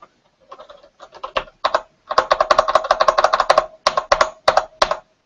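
Fingers type on a Mac computer keyboard close up, starting with scattered taps and building into a quick dense run of crisp key clicks, then slowing to a few separate presses, with no talking.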